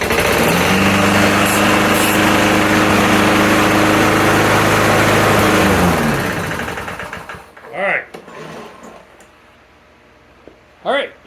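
A small Lawn-Boy lawn mower engine, just fixed after a pull rope repair, runs loud and buzzing at a steady high idle for about six seconds, then cuts out and winds down into near quiet, with a couple of brief voice sounds afterward.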